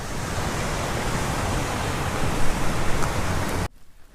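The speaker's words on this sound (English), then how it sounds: "Waterfall." A waterfall along Scotland's NC500 route gives a steady, dense roar of rushing water, close and loud, holding even for several seconds before cutting off abruptly near the end.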